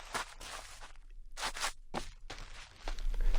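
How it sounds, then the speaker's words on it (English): Footsteps in Assassin's Creed Odyssey cross from one surface to another, close and alone: a run of crunchy, scraping steps with gritty texture, spaced irregularly and growing heavier toward the end. "right now we are listening to only the footsteps"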